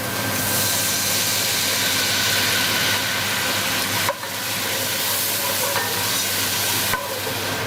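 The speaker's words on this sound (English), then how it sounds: "So now we're going to add the white wine." Steady loud sizzling of white wine hitting softened onion and garlic in a hot pan, a continuous frying hiss with a brief dip midway and another near the end.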